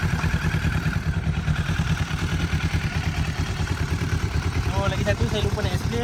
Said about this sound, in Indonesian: Okay, jom kita start motor dulu.